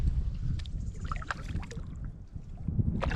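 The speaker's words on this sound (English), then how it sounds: "Oh, there's the wind." Wind gusting across Sparks Lake while paddling in spring, a rough low rumble buffeting the microphone with faint water sloshing against a boat, steady and close throughout.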